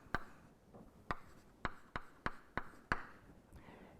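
Chalk tapping and scraping on a board during a mathematics lecture, a series of sharp, distinct strokes and taps with short gaps between them, close and clear with no talking.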